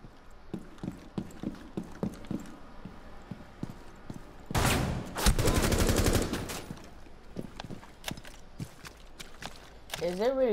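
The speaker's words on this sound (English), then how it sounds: "Is it really like this, like the guns, when you shoot, they shoot up?" Rapid automatic gunfire in Rainbow Six, a dense burst lasting about two seconds, loud and close, with scattered single shots and footsteps before and after while a person talks in the background.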